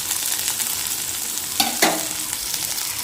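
Food sizzles steadily as it fries in a pan in a home kitchen, with two sharp scraping stirs of the spatula just past the midpoint, close and alone.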